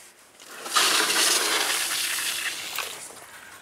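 A Dzhileks submersible sewage pump runs quietly in shallow water: a steady rushing starts after a brief quiet moment and continues at moderate volume, a soft whooshing flow with no talking.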